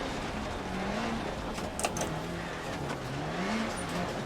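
An 800 bhp rally car with a full manual gearbox drives at speed along a bumpy rally stage, its engine droning steadily and loudly from inside the car, with pitch rising and falling through gear changes and a brief clunk.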